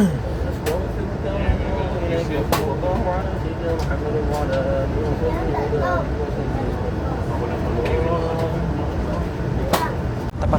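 Rumbling train noise with rhythmic clatter and intermittent sharp knocks, steady and fairly loud throughout, as the Parahyangan passenger train departs Bandung station for Jakarta, heard from a panoramic-class carriage.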